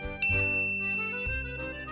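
A bright notification bell dings once, sharp and clear, over a soft sustained musical background that shifts chords midway.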